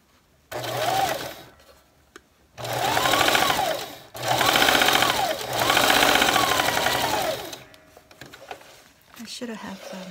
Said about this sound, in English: we need to sew the edge